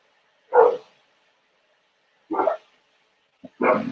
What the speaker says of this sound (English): I forgot my dog is in there.